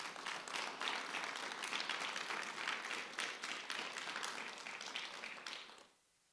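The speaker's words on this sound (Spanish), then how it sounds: "Denle un aplauso al Señor." A church congregation breaks into sustained applause, a dense wash of many hands clapping at a steady level before fading out sharply near the end.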